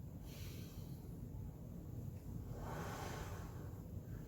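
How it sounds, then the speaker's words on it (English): Slow, deep breaths taken during a follow-along mobility workout, with a soft inhale and a longer airy exhale that sit close and quiet against a low background hum. "Let's take a couple breaths here."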